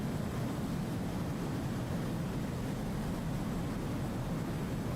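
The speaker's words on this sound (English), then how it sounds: "there's a biplane out there somewhere flying around" A biplane drones steadily somewhere in the distance in the flight game DCS, a faint, even engine hum with no other sounds.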